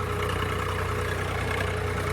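A tractor engine idles in a steady, continuous low rumble with a constant mechanical hum and no pauses, close and fairly loud throughout.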